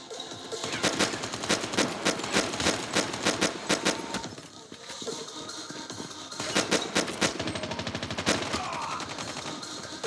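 Rapid bursts of Call of Duty pistol fire crackle through an arena training round, loud and steady, with a short lull near the middle before the shooting resumes, alongside some talk.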